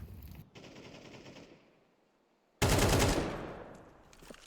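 Bursts of automatic gunfire crack out in a Counter-Strike 2 match, a rattling volley first, then a pause of near quiet, then a louder, sharper spray of rapid shots that fades.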